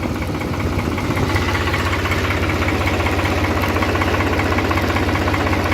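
A Model 3630 tractor engine runs steadily in first high gear, a loud, close, continuous diesel chug with a rapid even knock throughout and no talk.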